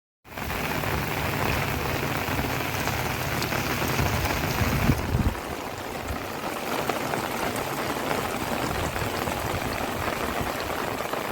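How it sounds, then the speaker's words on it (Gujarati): Heavy rain pours down steadily, a dense close roar of drops on surfaces that continues without a break. "વરસાદ એક ધારો ચાલુ છે"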